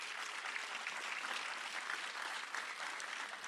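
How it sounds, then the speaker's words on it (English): Steady, even applause from a crowd of families and guests at a fire rescue recruit graduation ceremony, a dense wash of clapping heard from a little distance without a break. "You can give them a clap."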